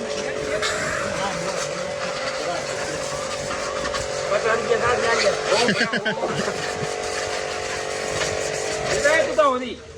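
A tractor-powered water pump motor runs steadily for washing at a dairy site, a loud droning engine hum throughout with people talking over it.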